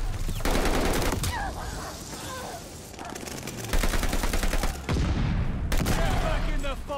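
Explosions and heavy gunfire from a hectic online shooter match, with sustained bursts of automatic fire and booming blasts filling the whole stretch, loud and dense, while a player talks over the action.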